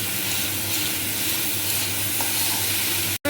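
Okra (bhindi) frying in a pan, a loud, steady, dense sizzle with faint stirring scrapes, alone and close up.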